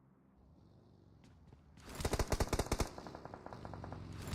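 Automatic gunfire in a video game esports match, a rapid burst of loud shots after a quiet start, followed by lighter scattered fire.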